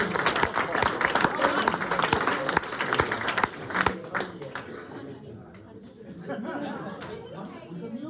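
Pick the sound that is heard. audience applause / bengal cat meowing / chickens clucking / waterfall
audience applause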